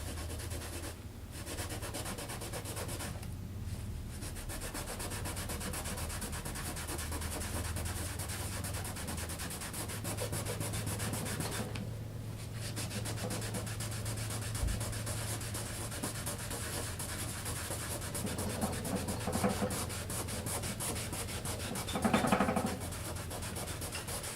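A cloth rubs back and forth over a pinball playfield as MotoMaster cleaner from Canadian Tire works off gritty dirt, a steady close scrubbing hiss with short pauses and a slightly louder stroke near the end.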